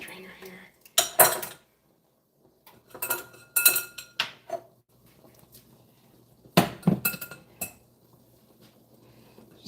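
Metal strainer and kitchen utensils clink and clatter while rosemary is strained for an aloe body soap, coming in several sharp bursts of metallic knocks with quiet gaps between them.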